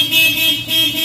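A Honda Fit's horn, working again after a clock spring repair, sounds in two short close blasts, each a loud steady tone separated by a brief gap, with no talk over it.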